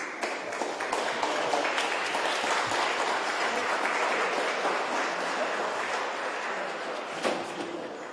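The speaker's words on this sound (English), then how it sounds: "A round of applause, please." An audience at a portrait unveiling ceremony claps loudly and continuously, a dense sustained wash of applause with no speech.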